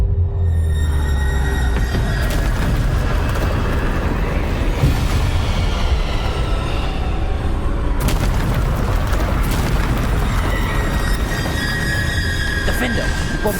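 Bombarda spell blasts in the Hogwarts Legacy video game: loud booming explosions with bursts and squealing debris over continuous dense combat noise, a fresh blast hitting near eight seconds, with a voice speaking in the background.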